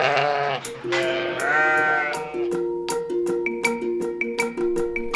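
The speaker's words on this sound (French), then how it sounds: "au milieu des moutons et des brebis, bercés par leur doux bêlement" Sheep and ewes bleat softly in a cozy animated Christmas scene, several overlapping calls rising and falling at first, then a gentle chiming musical melody with regular plucked notes takes over.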